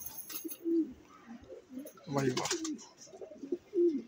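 Madrasi pigeons coo nearby in low, soft, repeated calls, with someone talking intermittently among the coos.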